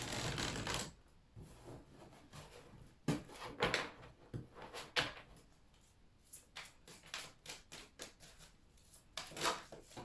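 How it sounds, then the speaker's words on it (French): Tarot cards are handled and drawn from a deck in a quiet room, giving a series of soft papery shuffles, slides and taps in irregular bursts, fairly close. "Donc là, on va tirer une carte."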